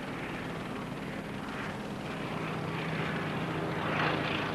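A formation of WWII bomber aircraft passes overhead at a commemorative flypast, giving a steady, broad propeller-engine drone that holds throughout and swells slightly toward the end, with no talking.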